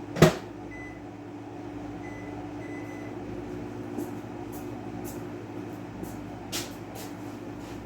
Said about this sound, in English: Now I gotta go check on my oil in the microwave